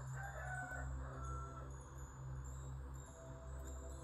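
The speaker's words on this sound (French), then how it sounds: "Je verrai au montage si on entend, le coq." A rooster crows in the background, fairly faint, with its drawn-out call standing over a steady low hum and no talking.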